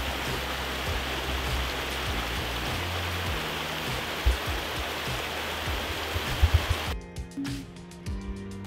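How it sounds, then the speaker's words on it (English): Steady broadband rush of a small brook running beside a campsite near Hayfield in the Peak District, constant and close for most of the stretch, then a few sharper splashy drops before it thins out near the end. "the sound of running water, which was right across the road that ran beside the site, and it was just lovely, nice little brook."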